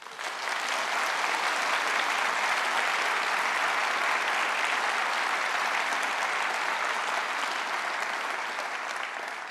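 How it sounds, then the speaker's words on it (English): Sustained applause from a large audience at the Conservative Party Conference, a thick, even roar of clapping that holds loud and steady from start to finish. "they deserve a big round of applause"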